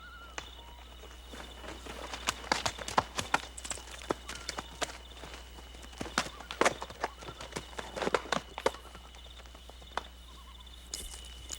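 Horse hooves clip-clopping at a walk on a rider's mount, a steady irregular run of close, crisp hoof strikes against a quiet background hum, with no talking.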